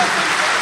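Audience applause at a mushaira and kavi sammelan poetry recital in Ichalkaranji, a dense steady clapping that fills the whole short stretch without a break.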